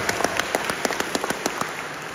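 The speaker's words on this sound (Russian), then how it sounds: "Зачем вы аплодируете?" Audience clapping in a hall at an Apple iPhone 15 launch presentation, a loose patter of hand claps in uneven bursts without voices.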